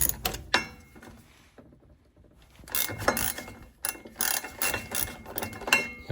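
Socket ratchet clicking on the propshaft bolts of a 2012 Range Rover L322 4.4 TDV8, close and fairly quiet, in quick bursts of ratcheting with a brief pause in the middle.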